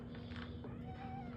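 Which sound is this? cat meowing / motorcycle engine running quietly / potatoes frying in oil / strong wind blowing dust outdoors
cat meowing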